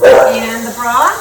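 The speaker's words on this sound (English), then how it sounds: "That's my dog barking." A dog barks and yips nearby in a home kitchen while someone cooks, the short barks mixed in under a person talking.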